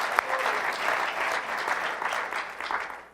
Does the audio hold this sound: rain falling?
no